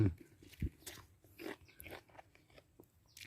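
Crisp bites and crunchy chewing on a fresh, sweet jujube fruit picked from an orchard, several sharp crunches early then softer chewing close to the mouth.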